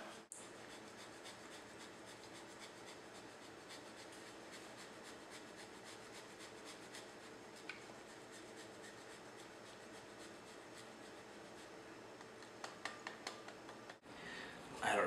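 Parmigiano-Reggiano cheese being grated by hand for homemade basil pesto, a continuous close scraping rasp that holds steady throughout with a few sharper strokes at the end.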